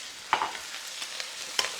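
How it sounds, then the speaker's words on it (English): Garlic and chicken stir-frying for garlic chicken fried rice, quiet sizzling broken by a few sharp clicks and scrapes of a utensil against the pan, with no talking. "stir frying this garlic with the chicken"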